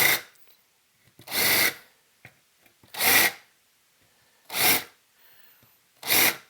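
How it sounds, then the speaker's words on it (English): Countersink or deburring bit chamfering the edges of holes in a small metal amplifier chassis, heard as four or five separate short grinding bursts with brief quiet gaps between them, close and fairly loud. "to come back and chamfer the edges of these holes"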